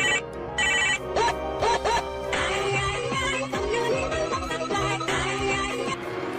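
A telephone ringtone sounding while a man calls a ride-hailing motorbike driver, a bright electronic ringing melody in repeated bursts, close and loud, with a few faint background sounds between rings.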